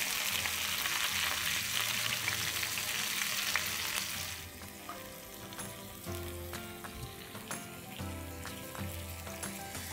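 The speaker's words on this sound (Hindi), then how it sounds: "फिश अच्छे से फ्राई हो चुकी है, अब हम इसे निकाल लेते हैं।" Fish frying in hot oil, a loud dense crackling sizzle that drops to a gentler bubbling with faint clinks partway through.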